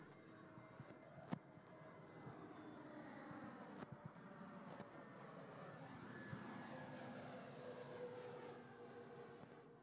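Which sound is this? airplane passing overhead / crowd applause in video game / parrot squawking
airplane passing overhead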